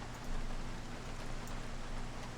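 Steady rain pours down in the survival game Project Zomboid, a dense, even hiss that holds at a constant level with no voices over it.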